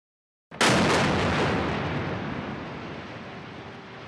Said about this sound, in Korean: 폭발음과 함께 가자지구 안에 있는 12층짜리 건물이 순식간에 무너져 내립니다.